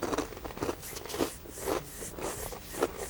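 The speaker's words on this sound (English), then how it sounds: "I know we're getting a lot of chewing sound here." Crunchy pizza-flavored pretzel snacks being chewed at an Earth Day event, a series of close, crisp bites recurring every half second or so, fairly quiet with no talking.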